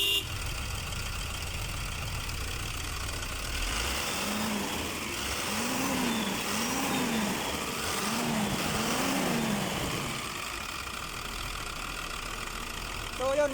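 An Isuzu 6BD1 six-cylinder diesel engine runs at a steady idle after starting, a moderate continuous rumble with a slight rise in the middle, while someone talks over it.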